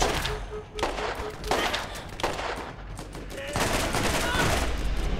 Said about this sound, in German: Oh, ich werde angeschossen von irgendjemand.